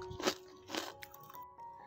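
Two crisp, loud crunches close to the ear as spicy-sweet flour-free coated fried peanuts are bitten, followed by softer crackly chewing.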